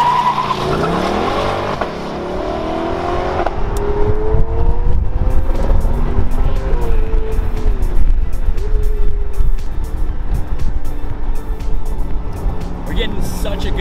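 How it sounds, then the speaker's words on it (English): Ferrari 488 Pista and mid-engine Corvette C8 driven on a mountain road, engines rising in revs with shifting pitch, then a deep rumble with sharp intermittent pops and clicks, loud and close throughout. "Good sound note off the Pista in front and then the engine in the back."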